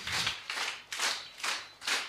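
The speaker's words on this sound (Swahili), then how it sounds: "Kwanza nisikie makofi kwanza" A church congregation claps hands in a steady, unison rhythm, five broad, close bursts of applause-like clapping repeating at an even pace with no talking.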